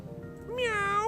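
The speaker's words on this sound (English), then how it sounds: "That's a cat." A cat gives a single clear, rising meow, close and fairly loud, over a faint low background hum.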